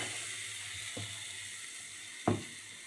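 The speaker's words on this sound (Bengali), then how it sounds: "আদা আর 1 চামচ জিরে আর এতে হলুদ দিয়ে ভালো করে একটু কষিয়ে নেব।" Ginger, cumin seeds and turmeric fry in a pan with a steady close sizzle and hiss, broken by a few brief stirring scrapes, with no talk.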